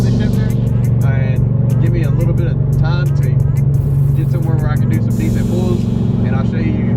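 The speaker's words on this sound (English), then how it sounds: "My car's kind of loud." A Ford Mustang GT fitted with a Barton Hybrid 3 shifter drones with a loud, steady engine rumble throughout, someone talking over it the whole time.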